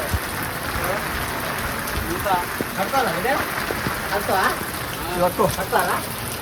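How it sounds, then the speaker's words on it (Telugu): Heavy rain falling outdoors during a family function, a dense steady patter close by, with people talking over it for much of the time. "బాగా వస్తుంది వర్షం"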